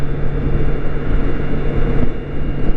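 BMW K1600 six-cylinder motorcycle engine at night, a steady low droning hum with constant rumble and no breaks, heard up close throughout.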